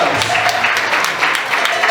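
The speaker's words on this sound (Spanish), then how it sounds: "Un fuerte aplauso también para los novios" Wedding guests applaud the bride and groom in a steady, dense wash of clapping that fills the whole stretch at close range, with no voice rising above it.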